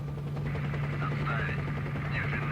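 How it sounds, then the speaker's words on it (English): A steady low military helicopter drone with rotor thrum hums throughout in the video game STALKER: Shadow of Chernobyl, overlaid by scattered game effects and faint chatter of voices. "Go away, military helicopter. You're just making too much noise."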